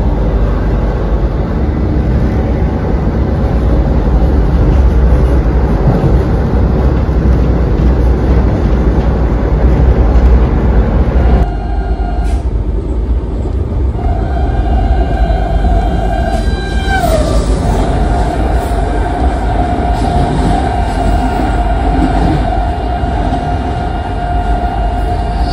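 The Pune–Nagpur Vande Bharat Express runs with a loud, constant rumble of wheels on rails, heard from inside or close by, and a tonal hum rises partway through as the train keeps moving.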